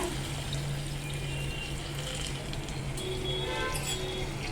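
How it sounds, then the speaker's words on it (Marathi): Water pours steadily into a pan of Malvani-style fish curry with kokum, a soft continuous splashing trickle close by with no talking. "आणि थोडस पाणी टाकून घेऊया"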